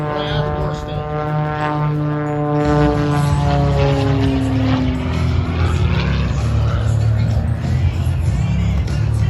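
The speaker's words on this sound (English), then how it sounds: "One of the maneuvers crop dusters will use to get the airplane turned around and back over the fields to crop dust." Crop duster airplane banking low over fields in a crop duster turn, its propeller engine a loud, continuous drone that shifts in pitch as it swings around, with a voice talking over it.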